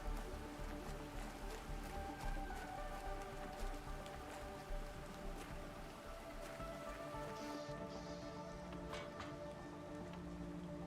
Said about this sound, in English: Raining now.